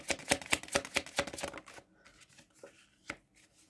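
Tarot cards are spread out on a surface in a quick run of about eight crisp slaps and flicks, close and fairly quiet, followed by softer rustling and one more distinct card tap near the end.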